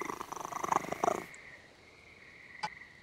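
A cat purring in the Penny Arcade Adventures video game: a rhythmic, close rumbling purr with a soft tonal hum for about a second, then fading to quiet with a faint click.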